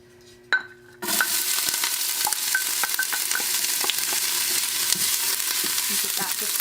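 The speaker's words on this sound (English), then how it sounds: "And now we're going to start with adding our onion." Chopped onion drops into about two tablespoons of hot oil in an Instant Pot set to sauté. A brief thud is followed by a sudden, loud, continuous sizzle with faint crackles and occasional scrapes.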